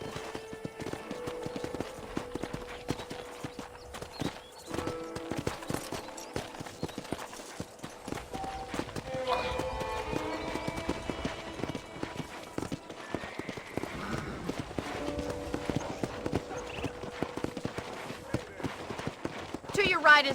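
Horse hooves clip-clop steadily through the Red Dead Redemption video game while a ranch-bound ride continues, the hoofbeats running under near-constant speech and game music for the whole stretch.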